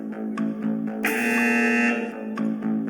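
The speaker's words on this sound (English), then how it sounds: "Moment somebody thinks they know, press the buzzer." A quiz buzzer at a fashion retail quiz event gives one long, loud, harsh electronic tone lasting about a second, with a hum and short tonal blips around it.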